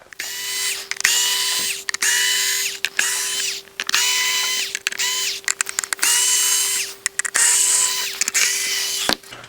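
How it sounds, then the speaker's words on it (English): A Ryobi cordless electric screwdriver runs alone in repeated whirring bursts of about a second each, stopping and starting with short ratcheting clicks between runs, loud and close. "I was a late adapter to these electric cordless screwdrivers. This is a Ryobi one."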